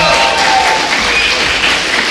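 A large crowd at a StarCraft 2 WCS Premier League esports event cheers and applauds steadily, a dense, loud wash of voices and clapping that fills the whole stretch without pause.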